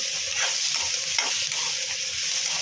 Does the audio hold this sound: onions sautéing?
yes